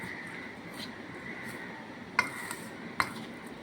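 A spoon mixes sugar into grated coconut batter for malpua in a bowl, with two sharp clinks of metal against the dish over a faint hum, no talk.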